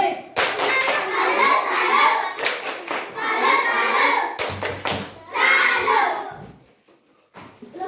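Schoolchildren in a classroom perform a patterned clap routine, bursts of rhythmic group clapping with sharp claps and thumps separated by short gaps, ending with a lone final clap after a brief silence.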